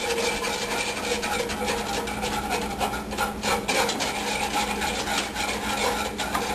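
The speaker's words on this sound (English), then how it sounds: "And then we'll start slowly stirring that in, and that'll melt into the cream." A spoon stirs chocolate into cream in a pot, making a steady, continuous scraping rasp that stays at an even level throughout with no voices.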